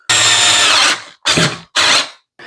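Cordless power screwdriver whirring while fastening parts of a Ryobi 40V snow shovel, one long burst followed by two shorter bursts and the start of a fourth, loud and close.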